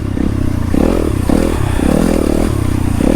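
A motorcycle rides a single track trail at night in the Lincoln Hills, Michigan, its engine loud and close, revs rising and falling in quick surges with rattling and scraping over rough ground.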